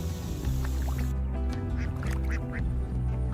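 Ducks in rice fields quack loudly and repeatedly at close range, several birds overlapping in an uneven chorus over a steady low background hum.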